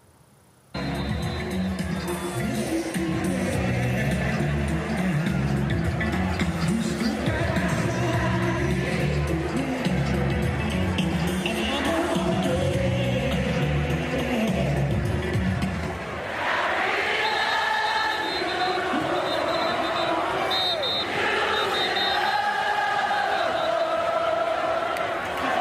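A huge stadium crowd of about 30,000 at a Jackson State football game roars loudly and continuously, with chanting and band-like tones throughout and a shift to brighter cheering in the second half.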